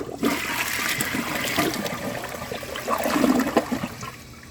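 A Vilbomex toilet flushing during a 2014 clog test, a sustained rushing swirl of water with gurgling and trickling that swells toward the end before tapering off, heard close and alone.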